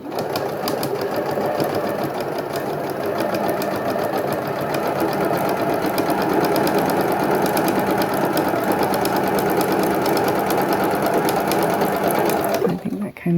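An embroidery machine quilts along a drawn line, running fast in a steady, continuous loud whir with rapid needle chatter that holds for most of the stretch, then cuts off near the end.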